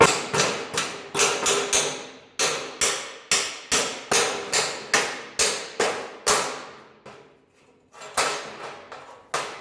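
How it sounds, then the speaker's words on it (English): A hammer drives a chisel between two spot-welded metal pieces, making a rapid series of sharp, loud metallic strikes in bursts, with a short pause before a few final blows. "Stubborn, I'm going to use a chisel on it."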